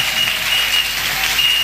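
A church congregation applauds and cheers during a worship service, a steady wash of many hands clapping at even loudness throughout, with no individual voices standing out.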